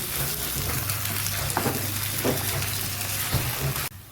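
Ginger garlic paste sizzling and frying in a hot pan for a potato masala gravy, a steady loud crackle with a few scraping stirs before the sizzle cuts off near the end.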